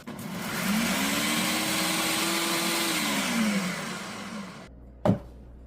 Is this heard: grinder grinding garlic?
yes